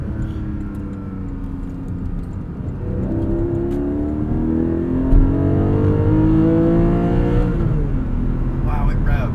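A 2021 Porsche 718 Cayman GTS 4.0 engine revs up through rising harmonic sweeps, climbing and falling loudly, with a brief voice in the background.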